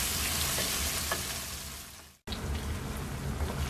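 Onions sizzle in hot oil for a chicken potato curry, a steady close frying hiss that cuts out for a moment and then resumes.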